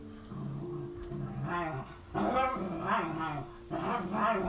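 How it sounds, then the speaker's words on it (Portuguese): A small dog kept indoors during quarantine barks, yips and growls restlessly in several close bursts, with quieter whimpering stretches between them. "Já a cachorrinha já nervosa, porque elas estão de quarentena também"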